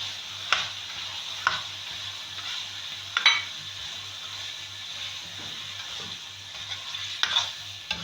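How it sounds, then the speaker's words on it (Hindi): Green peas go into minced meat frying in a pan: a low, steady sizzle with a faint hum beneath, punctuated by several distinct scraping stirs and spoon taps spaced a second or more apart; no speech. "ये मैं डाल रही हूँ मटर"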